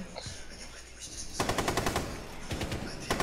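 Video game gunfire: automatic bursts of rapid shots, loud and close, in two clusters with a brief pause between.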